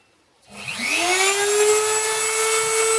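An electric screwdriver holding a carburetor screw in its chuck, used on a Walbro WT carburetor for a DLE model engine, whirs up from silence to a loud, steady whine that holds to the end.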